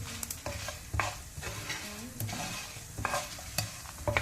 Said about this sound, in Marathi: ह्यो पुरो वस्तू तितकेशे भाजून काडया।